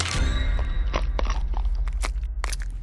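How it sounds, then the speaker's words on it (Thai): Someone bites and chews a hard lollipop, a run of loud close crunches and cracks coming in an uneven rhythm over a low background rumble, with no talking. "สัตว์ประเภทไหนกันในเคี้ยวโรลลี่ป๊อป"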